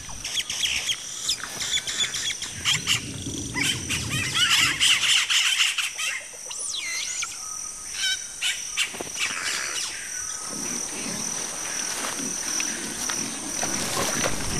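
Yellow-rumped caciques at a crowded nesting colony squawk and quarrel noisily, a dense, continuous tangle of harsh calls, chirps and rattling notes with several birds overlapping throughout.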